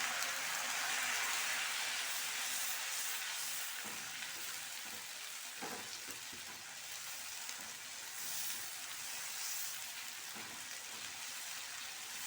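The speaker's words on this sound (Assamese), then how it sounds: "পিঁয়াজ নহৰু আদা অকণমান ভালদৰে ভাজিব লাগিব" Onion, garlic and ginger paste frying in a pan for egg korma. It sizzles steadily and close up, with occasional soft scrapes and clinks from stirring and no talking.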